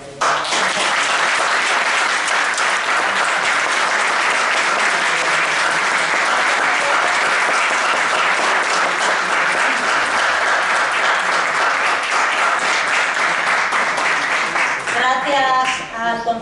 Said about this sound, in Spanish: te damos un aplauso enorme